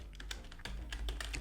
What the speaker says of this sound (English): here we will be typing